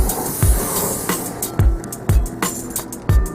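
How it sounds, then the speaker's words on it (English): Several short hissing bursts of cooking spray onto a barbecue grill, roughly evenly spaced, with a low thump at each one over a steady background hiss. No voices. "I'm going to spray down the entire grill"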